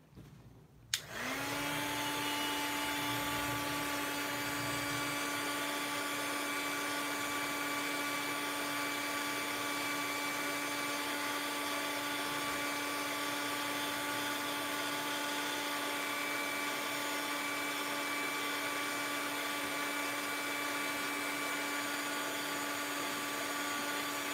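A drying tool blows steadily on a mixed media tag to dry paint powders, switching on after a click near the start and then running as a continuous close whir with a high whine, no talking.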